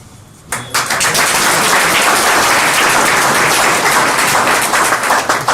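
Loud, dense applause from an audience welcoming a guest at an education event, breaking out suddenly after a brief quiet moment and sustained as continuous clapping to the end.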